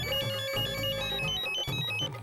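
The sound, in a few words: phone ringing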